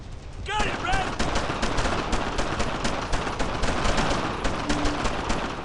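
Rapid squad gunfire in the Brothers in Arms World War II shooter, dense overlapping rifle and machine-gun bursts firing continuously and loudly, with a brief shouted voice near the start.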